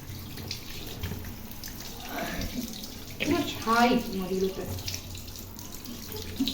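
Tap water runs and splashes over cut tilapia fish being washed in a sink, a moderate gurgling flow that swells in the middle, with faint talk in the background.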